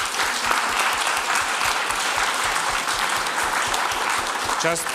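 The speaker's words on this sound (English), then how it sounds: "we can have a little applause for our speakers here" A workshop audience applauds its speakers in a conference room, with steady, dense clapping throughout and a brief voice or tone near the end.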